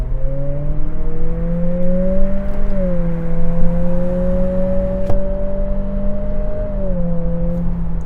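A 2025 Acura ADX in sport mode launches from 0 to 60 mph with a loud, steady engine drone that climbs slowly in pitch, dipping briefly at two gear changes.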